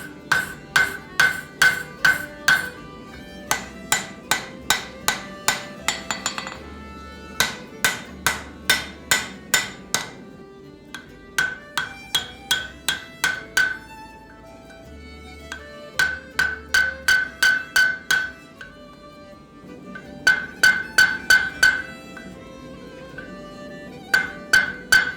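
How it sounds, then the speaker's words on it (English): Hammer blows shaping forged axe lugs on the horn of an anvil, ringing metallic strikes in rapid bursts of several hits separated by short pauses, loud and close throughout. "I begin shaping them on the horn of my anvil"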